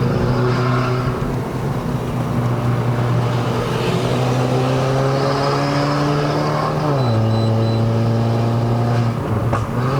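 A Mercedes-Benz A180 W176 pulls through mountain bends on a run up to Genting, Malaysia. Its engine drones steadily from inside the cabin, the pitch holding through the curve, dipping at a shift and then climbing again.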